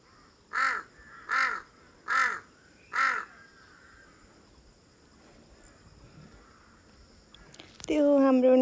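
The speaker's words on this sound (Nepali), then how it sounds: "काग।" A crow caws four times in a steady rhythm, fairly close and distinct over quiet village ambience with faint insects; a voice briefly speaks at the very end.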